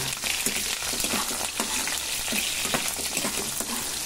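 Onion going into garlic already frying in a pan for sautéed tomatoes, a steady dense sizzle with stirring scrapes running throughout, close and fairly loud, no talking.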